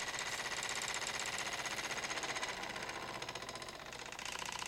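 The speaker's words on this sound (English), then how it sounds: "You can hear the speed of the motor speed up. And then slow down." A homemade no drag generator motor hums with a rapid, buzzing mechanical chatter, its pitch rising and then easing off as it speeds up and slows down.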